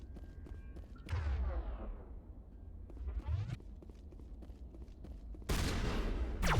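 Gunfire from snipers during a firefight in the video game Mass Effect 1 Legendary Edition: a few loud sweeping bursts, including a sharp heavy blast near the end, over a constant low rumble of game ambience.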